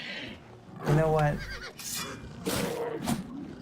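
A horse in the video game Oblivion gives a loud whinny near the start, followed by a few softer snorts and movement sounds, with a voice talking over it.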